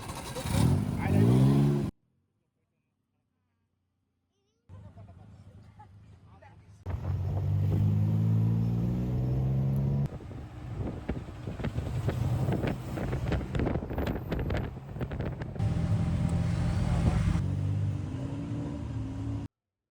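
A tuk-tuk carries riders through hot Bangkok streets, its engine droning steadily under heavy wind buffeting, with a brief dropout and then busier traffic noise. People talk over the ride.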